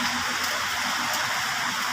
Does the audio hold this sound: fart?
no